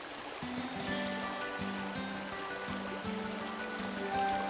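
A mountain stream flows over cobble shoals in a forest recreation area, giving a steady broadband rush and patter of water with no voices, close and continuous throughout.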